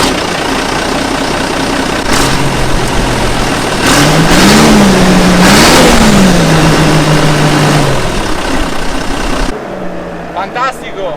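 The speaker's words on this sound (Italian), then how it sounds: "montavano un Fiat OM 8365 a 6 cilindri turbo da 8100 cm3" A Fiat OM 8365 six-cylinder turbo diesel of 8100 cc in a vintage Fiatagri 90 series tractor runs loud and close, idling, then revving up and down in rising and falling swells before cutting off abruptly.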